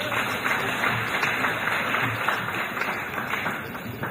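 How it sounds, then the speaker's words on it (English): Sustained applause from the audience at a memorial lecture for the panelists, a steady wash of many hands clapping at moderate distance with no talk over it. "Ladies and gentlemen, please give a round of applause to all of the panelists."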